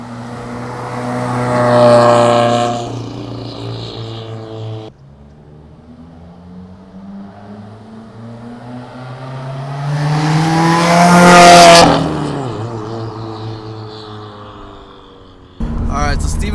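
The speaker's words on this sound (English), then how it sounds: "Steven's gonna do some drive-bys for us, some flybys." A 2015+ Subaru WRX with a Tomei titanium exhaust makes drive-bys, engine note rising as it approaches and revs hard past the listener, then fading away, followed by a second loud pass cut short at the end.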